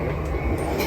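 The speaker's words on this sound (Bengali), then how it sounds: "ওকে, ট্রেন এসে পড়ছে।" A train pulls into a station in Tokyo, a loud, steady rumble close by that holds for under a second.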